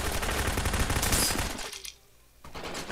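Shotgun fire in the video game Brain Out bursts out as loud blasts in the first half, drops to a brief quiet gap, then resumes.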